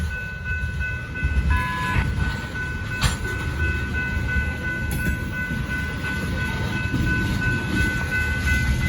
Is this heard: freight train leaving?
yes